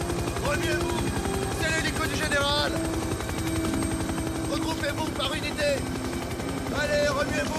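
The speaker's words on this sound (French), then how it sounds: "C'est l'hélico du général!" A military general's helicopter in a 1999 action film gives a loud, steady rotor chop with a pulsing beat, while shouting voices and other action sounds ring out over it.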